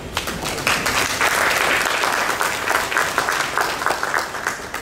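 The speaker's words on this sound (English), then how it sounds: "Give you a round of applause." Audience applause at a Medicare and budget town hall meeting, a dense, even wash of clapping from a crowd, fairly loud and sustained throughout.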